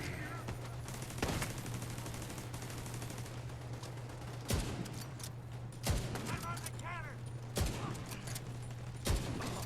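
Enemy gunfire in The Division 2 cracks out in sharp, loud bursts every second or so over a steady low hum and busy combat clatter, with a player talking now and then.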